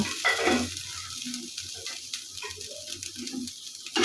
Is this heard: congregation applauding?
no